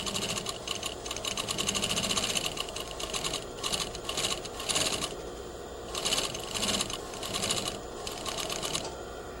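A sewing machine stitches two rows of gathering stitch on a garment, producing close, rapid mechanical chatter in several bursts with brief pauses between runs.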